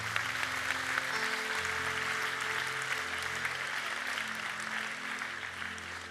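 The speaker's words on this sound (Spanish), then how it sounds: "Un aplauso a Dios que es fiel aquí bendiciendo" A church congregation claps steadily and loudly for several seconds, a dense sustained applause filling a large room, with faint background tones beneath.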